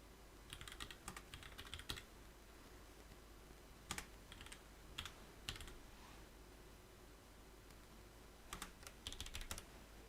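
Someone types a home address on a computer keyboard, with quick bursts of soft key clicks separated by pauses over a steady low hum, and no voices.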